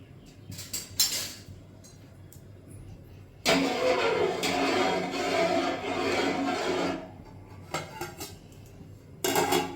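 A pot of rice is set on a home kitchen stove with a few sharp metallic clanks, then a loud steady rushing sound for several seconds, followed by more scattered clatter.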